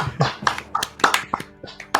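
Scattered hand claps from a small group during a charity livestream table read, irregular and fairly close over about two seconds, mixed with light tapping sounds.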